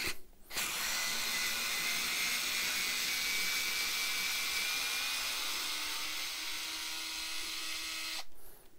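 A Hoto electric screwdriver drives a 4 cm screw in one steady, loud motor whir of about eight seconds, starting abruptly and cutting off sharply at the end, with no talking.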